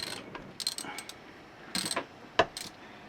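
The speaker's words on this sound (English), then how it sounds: "Rick's in here just working on getting the bolts off the top of the thermostat cover now." A wrench is used to remove bolts from a thermostat cover, giving sparse metallic clicks, clinks and ratcheting taps at close range over a quiet background.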